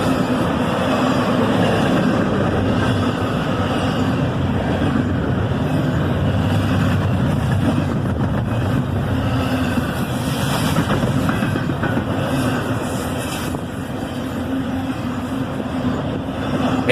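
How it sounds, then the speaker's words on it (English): A CSX southbound intermodal train led by a single ES-44ACH locomotive, with a second locomotive on distributed power, rumbles past steadily and loudly for the whole stretch, a continuous roar of wheels and railcars with no voices. "a single ES-44ACH leads this southbound intermodal train"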